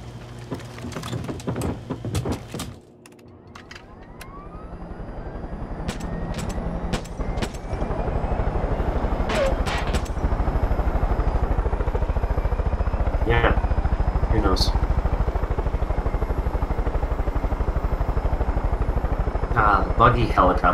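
Helicopter in the video game Far Cry 5, its rotor whine building up after a brief lull and then droning steadily and loud, with clicks and game effects and people talking over it.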